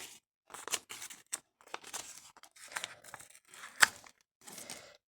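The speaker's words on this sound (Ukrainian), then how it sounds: "Надрізати і відкривати, так як уже довелося." A sweets packet is snipped with small scissors and then torn open, heard as a run of short, crisp cutting and crinkly ripping bursts with brief pauses between them. It is close and fairly quiet, and there is no talk.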